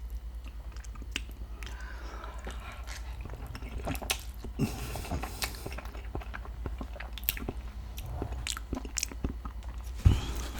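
Someone eats Chinese cheesy noodles at close range, with soft wet chewing, slurping and occasional crunchy bites over a low hum, quiet and intimate, with no talking.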